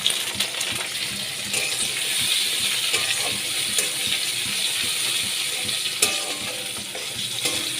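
Onion, green chilli and chopped tomato frying in a pan with steady crackling sizzle and occasional sharp ticks and clinks, close and continuous, no voices.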